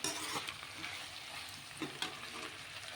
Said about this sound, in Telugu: కాలీఫ్లవర్ కూడా బాగా ఫ్రై అయిపోయిందండి, దీంట్లో ఇప్పుడు మనం కారం వేసుకుందాము.